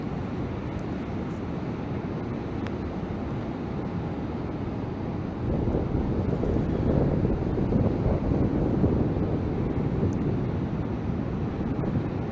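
Strong outdoor wind buffeting a microphone during a Mavic Air drone flight, a continuous rough low rumble that grows slightly louder partway through, with no talking.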